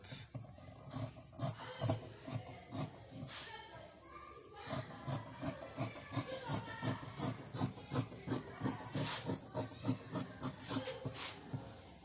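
Scissors cut through a shirt pattern in a steady series of crisp, close snips and rasping slides. Someone speaks quietly now and then.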